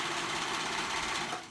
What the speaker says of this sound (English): I'm going to sew the sides together. Again, I'm using my serger